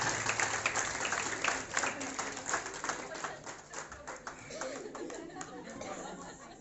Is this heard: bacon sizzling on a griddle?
no